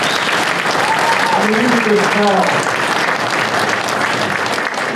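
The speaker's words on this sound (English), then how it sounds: "let's give the winners all another round of applause." Loud, dense applause for award winners at a chamber of commerce awards ceremony, sustained throughout while someone speaks over it.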